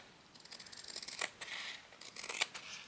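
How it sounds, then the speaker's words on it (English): Scissors snipping fabric embellishments, two crisp cuts close to the mic with faint paper-like rustling between them, no voices. "Just snip that off."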